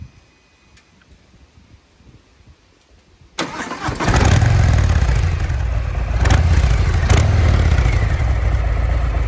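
A motorcycle with its original exhaust line fires up after a quiet few seconds, catching abruptly and settling into a loud, steady running note with a couple of sharp blips.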